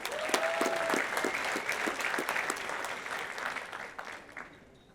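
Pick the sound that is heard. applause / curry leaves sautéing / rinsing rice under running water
applause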